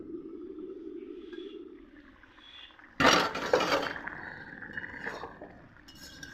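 A metal lid is lifted off a pot of bottle gourd simmering on the stove, giving a sudden clatter midway, followed by a burst of steam and bubbling and a few lighter clinks, against quiet kitchen background.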